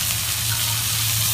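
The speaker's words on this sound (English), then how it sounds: "You guys hear that sizzle?" Steaks sizzle and fry in a pan while cooking outdoors on a back patio, a steady close hiss of spitting fat with a low hum underneath, no voices.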